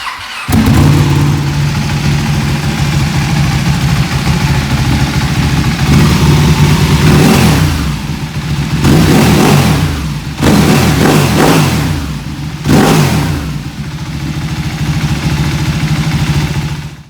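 A Ducati 1299 Panigale with an Akrapovic titanium exhaust idles with a deep, steady rumble, then revs sharply several times in bursts before settling back to idle; loud and close.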